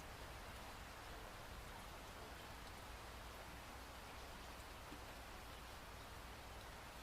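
Rain falls steadily on the roof of a cabin in the woods, a soft, even hiss with no breaks that stays faint and distant throughout.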